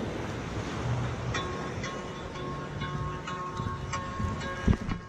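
Ocean waves washing onto a beach, a continuous surf roar mixed with wind buffeting the microphone, a thud near the end and no talking.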